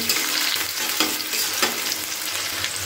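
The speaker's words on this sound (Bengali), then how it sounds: "দুটো তেজপাতা, কেটে রাখা পেঁয়াজগুলো বড় বড় করে কেটে রেখেছিলাম পেঁয়াজগুলোকে দিয়ে দিচ্ছি। দিয়ে একটু নাড়াচাড়া করে নিচ্ছি পেঁয়াজগুলোকে।" Chopped onions and a couple of bay leaves fry in a pan for cauliflower chilli, a steady close hiss of sizzling oil broken by soft scrapes of stirring, with no voices.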